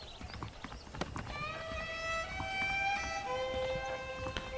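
Steady clip-clop of horse hooves on the ground in Red Dead Redemption, joined by a long sustained musical tone; no talking.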